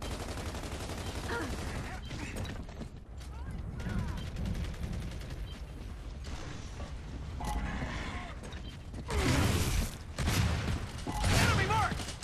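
Sniper and other gunfire in an online shooter game, a dense mix of rapid shots and mechanical clatter with louder bursts toward the end, amid game noise and occasional voices.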